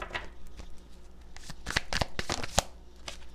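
A deck of tarot cards is shuffled up close, giving quick papery riffles and flicks in uneven bursts that build toward a sharp snap near the end, with no voices.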